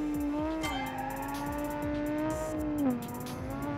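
A turbocharged 1985 rally car with wide tires and a laggy engine in BeamNG.Drive accelerates with a steady, rising engine drone and a few short tire squeals. Close and continuous throughout.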